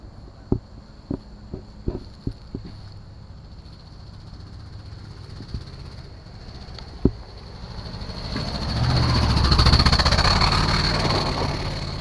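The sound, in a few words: 1974 Nova car driving past on the track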